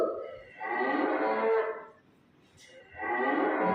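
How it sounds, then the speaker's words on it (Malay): Two long, low, drawn-out moos from a cow, close by, with a short quiet gap between them. "Bunyi lembu"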